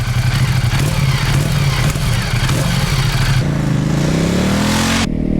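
Stock-exhaust 2016 motorcycle engine running loud and close, a steady throbbing rumble that swells into a rising rev near the end before cutting off abruptly.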